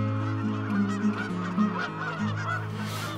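Canada geese in the Nebraska Sandhills honk loudly and close by, many calls overlapping in a dense, continuous chorus.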